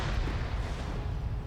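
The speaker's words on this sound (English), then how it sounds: "hearing those grenades go off nearby him" Grenades exploding nearby in the military shooter game Arma 3, a dense continuous low rumble of blasts and booming with no clear gaps, loud and heavy throughout.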